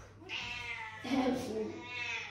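A female cat meows several times nearby, drawn-out plaintive calls with a complaining tone, clear and close against a quiet background.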